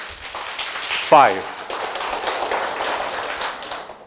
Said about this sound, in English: That's how I like to begin, with an applause.